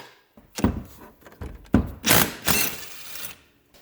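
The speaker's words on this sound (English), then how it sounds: "we're gonna take a 1/2 inch with a wobble. We're gonna take out these 2 bolts." A half-inch ratchet with a wobble extension works loose two rear brake bolts on a 1995-2001 Polaris Xplorer, giving several sharp clanks and metallic rattles in uneven bursts, close and fairly loud, with no voices.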